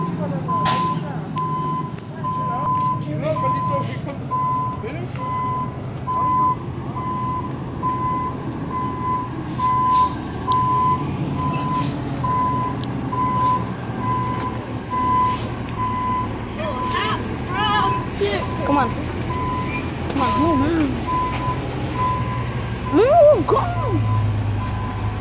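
A recycling pickup truck reverses in the dark before dawn, its steady backup beeper repeating over a loud idling diesel engine, with rumbling traffic and people talking nearby.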